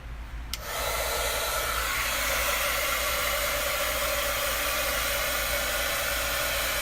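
A handheld heat tool blasts on after a click and keeps up a loud, steady, close-up rushing whoosh as it dries a craft board, with no talk over it.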